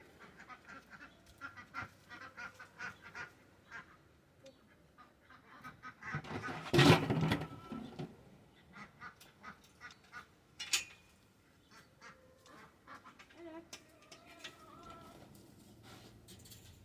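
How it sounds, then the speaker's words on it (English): Two ducks in a backyard pond area give scattered, faint quacks and honks over about seventeen seconds, with one louder burst of calls near the middle and no talk. "There are 2 ducks in my pond area"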